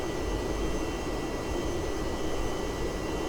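Avro Vulcan jet engines throttled back toward cruise at about 70% RPM, a steady, loud broadband roar filling the cockpit without pause.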